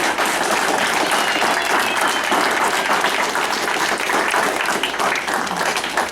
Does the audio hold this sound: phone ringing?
no